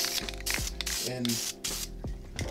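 Spray paint going onto an AR-15 rifle in a jungle tiger-stripe camouflage pattern: short close hissing bursts separated by pauses, with a voice talking in between.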